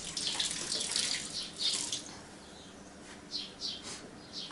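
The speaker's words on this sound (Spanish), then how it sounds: "Vamos a mojar todo el casco." Water running and splashing over a neo-retro motorcycle helmet being wet-sanded before a new coat of varnish, heard as bursts of close hiss that rise and fade irregularly, with no talking.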